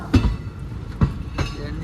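Rhythmic clunks of train wheels over rail joints, heard from inside a moving carriage, with a steady rumble between the knocks.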